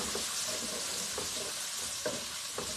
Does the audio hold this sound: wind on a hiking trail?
no